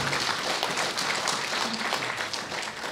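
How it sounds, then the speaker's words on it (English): Audience at the Kenya Water Summit clapping for development partners, a dense sustained round of applause from a large crowd, steady and close throughout, with no speech over it. "I want us to clap for the development partners"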